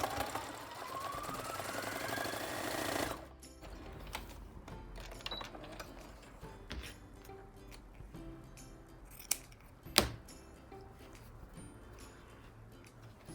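A sewing machine stitches the fabric leg of a plush Easter bunny, whirring steadily for about three seconds before giving way to scattered clicks and handling noises.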